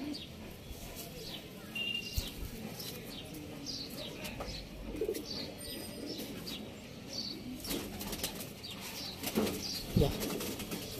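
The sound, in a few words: pigeons cooing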